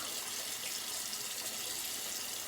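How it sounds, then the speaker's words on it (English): Cold tap water runs steadily into a sink for a face rinse after a shave, a continuous soft hiss and splash at close range with no other sounds. "Now we'll get a little bit of cold water on the face."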